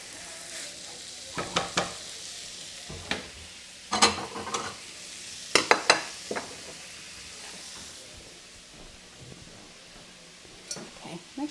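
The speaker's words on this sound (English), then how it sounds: "This shouldn't take too long to fry. I got the ground Italian sausage too and the mild." Mild ground Italian sausage frying in a pan, a soft steady sizzle broken by sharp scraping stirs and clatters every second or two, with a voice speaking intermittently over it.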